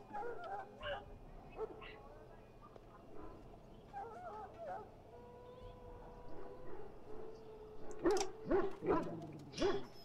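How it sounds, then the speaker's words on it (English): A wounded dog in the fantasy role-playing game Dragon Age Origins whimpers and gives soft yips, with brief louder barks near the end, under a low ambient game soundscape. "Now I can treat the dog properly, poor fella."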